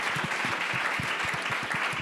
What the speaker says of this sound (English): Welcome, and a big round of applause.